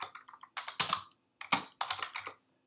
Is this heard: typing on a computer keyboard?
yes